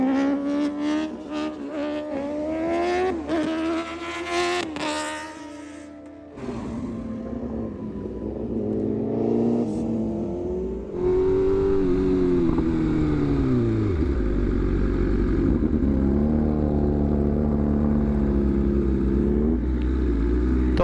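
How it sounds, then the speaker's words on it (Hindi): A motorcycle on an open road holds a long wheelie, its loud, close engine sweeping up and down in pitch, then settling into a steady high drone, with no talking. "अरे रे रे क्या लंबा व्हीली मार दिया यार"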